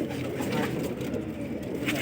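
Fighting pigeons in a loft give soft, low cooing murmurs against a steady background hum, continuous and close, with no one speaking.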